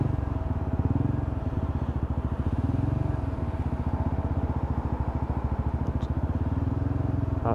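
Lexmoto ZSX-F 125cc motorcycle engine revving hard through a roundabout, a close, steady buzzing drone with a rapid pulsing beat that rises and falls slightly over several seconds.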